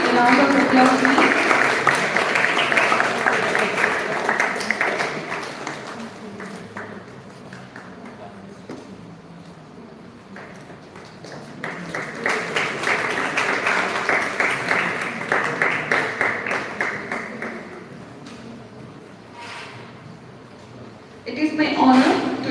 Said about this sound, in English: Again, a round of applause, please.